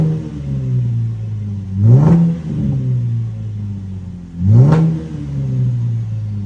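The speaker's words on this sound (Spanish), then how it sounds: "instala un resonador y así va a sonar." Two sharp revs from a car engine with a resonator fitted in the exhaust, each rising briefly over a deep, steady idle rumble, heard up close and alone.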